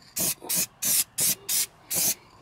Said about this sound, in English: This stuff does spray on pretty nice.